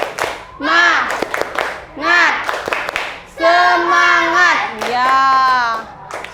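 Schoolchildren in a classroom do a rhythmic spirit clap: scattered sharp hand claps under loud group chanting of children's voices, which come in several bursts.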